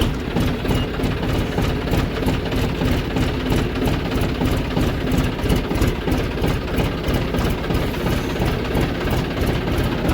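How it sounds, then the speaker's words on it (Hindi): A John Deere tractor engine idles with its silencer removed, giving a loud, close, steady low rumble with rapid rhythmic thumping that continues unbroken throughout, with no talk. "तो गाइस आपको आवाज़ कैसी लग रही है कमेंट करके बताना।"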